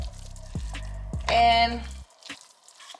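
Chicken stock poured over crumbled cornbread for chicken and dressing, a short liquid pour with low splashy gurgles. A voice talks briefly around it.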